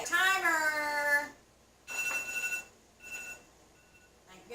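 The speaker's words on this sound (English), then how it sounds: "Timer!" A phone timer alarm rings in a home kitchen during a boil of quail eggs. A high voice comes first, then three short, fairly loud bursts of ringing tone, each separated by a brief pause.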